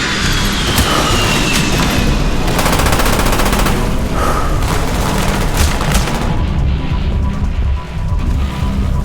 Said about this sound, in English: Grenade going in!